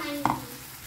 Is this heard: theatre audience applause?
no